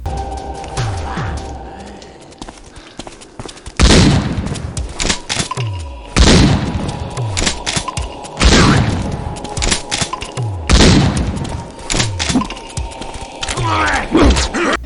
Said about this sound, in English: the shotgun is the worst firearm in the entire game